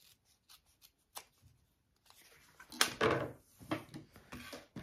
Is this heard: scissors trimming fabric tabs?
yes